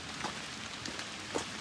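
Steady rain pattering at night on a hike down Bear Mountain, a soft even hiss with a few faint drip accents, no voices.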